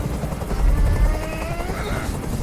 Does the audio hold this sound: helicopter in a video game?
yes